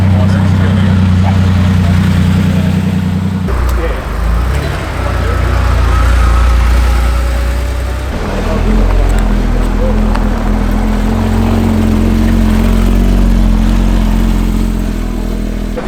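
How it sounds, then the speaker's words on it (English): A Porsche 959 arriving at a Porsche and coffee meet, its engine a loud, close rumble that swells and settles over about sixteen seconds amid crowd chatter and other idling cars. ".959 is turning up."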